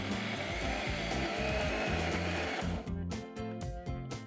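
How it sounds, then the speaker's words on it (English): A wet grinder grinds dosa batter of puffed rice and water, a loud, continuous mechanical whirr with rhythmic pulsing that keeps going, then turns choppier and stuttering near the end as the machine slows or shifts, no talking. "I'm going to add in water and grind this into a smooth paste."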